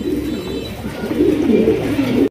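Domestic pigeons at a bird sale coo in low repeated throaty phrases. The coos overlap and swell louder toward the end, close by, with no voices.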